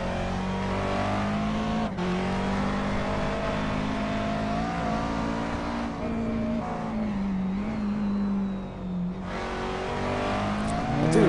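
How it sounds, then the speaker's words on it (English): McLaren MP4 race car engine in the iRacing video game, heard from the cockpit at Mid-Ohio: a loud, continuous high-pitched drone that climbs and drops through gear changes over a lap, with no talk. "I do like the sound of the McLaren, although it's, I wouldn't say necessarily authentic"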